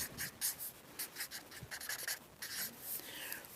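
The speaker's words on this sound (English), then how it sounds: "Okay, so I think I'm going to write" Handwriting in a lesson setting: a pen or marker scratching across a surface in quick, uneven strokes with brief pauses, close and fairly quiet, with no talking.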